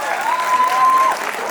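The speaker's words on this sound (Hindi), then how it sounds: "खड़े होकर के ताली बजा के स्वागत कीजिए इनका" An auditorium audience at a kavi sammelan at Chandigarh University applauds to welcome a poet, a dense, loud wash of clapping lasting under two seconds.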